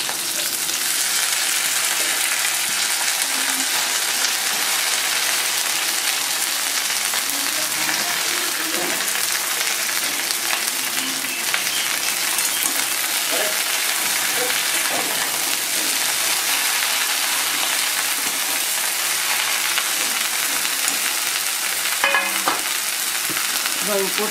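Garlic and fresh bottle gourd leaves fry in hot oil, a steady dense sizzle that holds loud and even throughout with a few faint stirring clicks.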